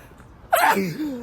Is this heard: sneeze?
yes